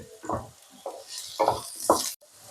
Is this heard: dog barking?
no